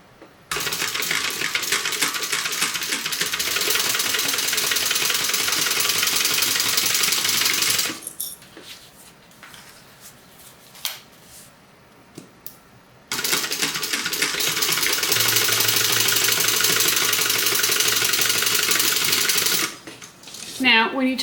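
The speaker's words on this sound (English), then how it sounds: "We're going to sew these on and flip them and top stitch." A sewing machine top stitching a crossbody bag, running in two long, steady bursts of rapid mechanical clatter separated by a quiet pause with small handling noises.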